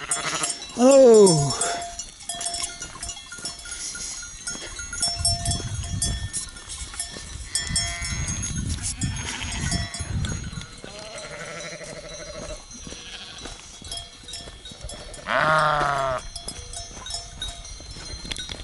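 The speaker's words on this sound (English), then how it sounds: "It's a sheep with bells." A sheep bleats loudly twice, far apart, while bells clank softly in between and a person speaks now and then.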